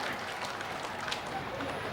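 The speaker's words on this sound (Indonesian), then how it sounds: "berikan tepuk tangan yang meriah kembali" Steady, fairly faint applause from an audience at a Hari Jadi Kabupaten Lahat 156th anniversary religious gathering, a dense even wash of clapping holding for about two seconds.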